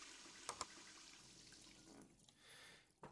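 Quiet pouring and splashing of water into a cooking pot in the adventure game Deponia, soft and low with a couple of small clinks and a brief gurgle near the end.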